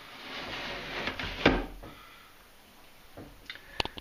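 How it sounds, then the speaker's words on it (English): A wooden drawer slides in a homemade chest of drawers full of books, giving a soft scraping rumble with a sharper knock near the middle and light clicks toward the end. "We can slide the drawers out."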